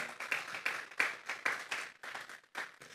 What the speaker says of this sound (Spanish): Vamos a darle esa ofrenda de palmas a Dios en esta hora.